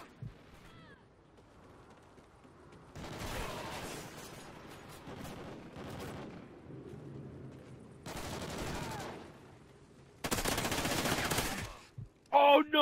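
Bursts of rapid gunfire from an online multiplayer shooter, several loud volleys a few seconds apart with a sharp final shot, over low background game noise with faint talk.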